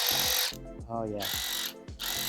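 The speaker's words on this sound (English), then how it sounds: "a power ratchet, a 90-degree power ratchet" A 90-degree cordless power ratchet whirs in loud bursts, starting and stopping about three times with a buzzing mechanical drone, while someone briefly speaks between runs.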